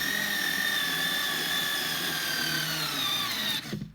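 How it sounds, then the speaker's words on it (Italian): A Parkside PAS 4 B2 3.6 V cordless screwdriver runs at full torque, a loud, steady high-pitched motor whine that drags slightly lower before cutting off abruptly near the end, heard close with no talk. "Ed è rimasto l'ultimo che dovrebbe erogare tutta la coppia, quindi i 5 Nm dell'avvitatore."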